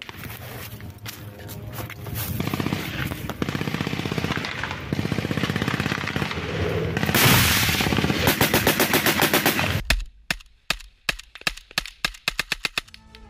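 Gunfire in combat between Al-Qassam fighters and IDF soldiers, with loud rapid automatic bursts running steadily for about ten seconds, then sharper separate shots cracking out one after another with short gaps between them.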